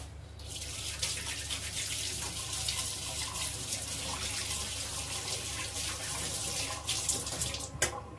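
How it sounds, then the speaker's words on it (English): Hands are washed under a running tap, with a steady close rush of water splashing into a sink for the whole stretch. A few brief louder splashes come near the end. "I'm going to wash my hands again."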